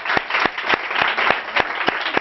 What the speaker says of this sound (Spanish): Un aplauso muy grande para él.